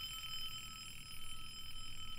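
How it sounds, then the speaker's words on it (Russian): A giant alarm clock rings with a steady, high electronic tone, faint and continuous, with a brief dip midway. "раздался грохот гигантского будильника в облаках"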